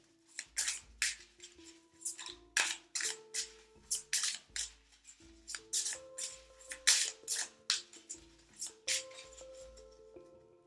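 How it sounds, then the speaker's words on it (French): Tarot cards being shuffled by hand, a rapid run of crisp riffling bursts repeating at an even pace throughout, close and fairly quiet, with faint tonal notes in the background. "Donc on va mélanger les cartes et on va tirer une carte"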